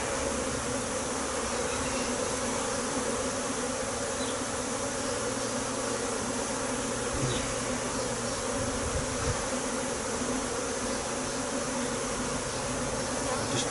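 Honeybees buzzing around open frames during a hive inspection while a colony is being split, a dense steady drone that stays loud and even throughout with no voices.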